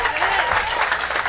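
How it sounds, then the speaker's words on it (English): A crowd applauds a contestant at the Lady Farmer of the Year final, steady close clapping over a brief stretch with a faint voice underneath. "Give her a big round of applause."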